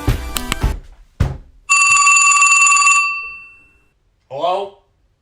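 A telephone rings in a long, loud, steady electronic trill that stops abruptly, with a voice talking before it and a brief voice after.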